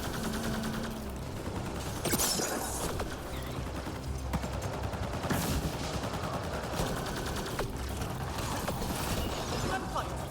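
Bursts of rapid gunfire and sharp shots crackle through a busy Mass Effect Andromeda multiplayer soundscape, with voices talking over the action.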